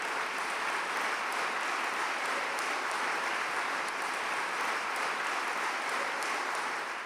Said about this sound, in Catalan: Per favor, un aplaudiment.